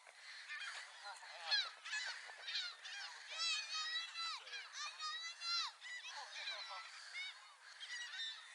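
A flock of seagulls calling near and loud, overlapping honking cries in rapid bursts repeating without pause, with a voice briefly under them.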